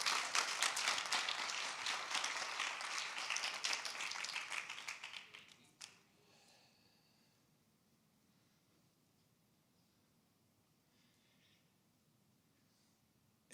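A church congregation applauds in a dense, loud burst of clapping that runs for several seconds, then stops abruptly and leaves a quiet room.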